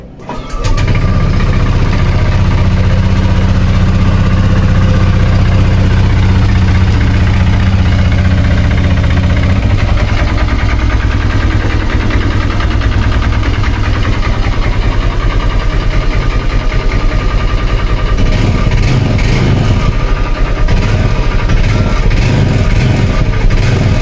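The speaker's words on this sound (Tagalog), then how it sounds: "Ang issue nito, nag-uusok at maingay na ang makina." An aging, noisy Honda Click 150 scooter with 52,000 on the odometer and a smoking engine idles loudly up close, a steady rough mechanical drone with knocking and rattling that grows harsher near the end.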